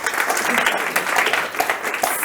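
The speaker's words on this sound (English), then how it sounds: "give yourselves a round of applause, please" A conference audience applauds during a morning session, a thick, continuous burst of clapping with small swells, a voice partly mixed in.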